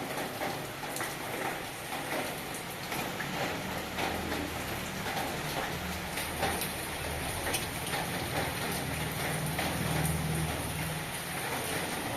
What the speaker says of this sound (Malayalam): മഴയും പെയ്യുന്നുണ്ട്